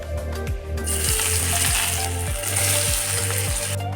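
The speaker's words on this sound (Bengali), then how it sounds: "প্রথমে হলুদ আর লবণ দিয়ে আলুগুলোকে ভেজে নিলাম।" Potatoes fry in oil with turmeric and salt, giving a steady, dense sizzle that stays loud and close throughout, with a low repeating hum underneath and no talking.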